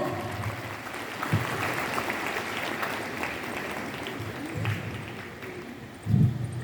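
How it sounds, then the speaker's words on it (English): Audience at a school Independence Day celebration giving a round of applause to welcome the chief guest, a continuous fairly distant rattle of clapping hands with a few louder thumps. "May I have a big round of applause?"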